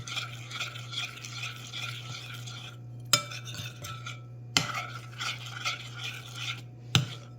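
A spoon stirs half-melted chocolate chips in a bowl, a soft continuous scraping with a few sharp clinks against the side.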